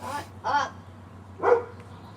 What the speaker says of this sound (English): The dog is going nuts, of course.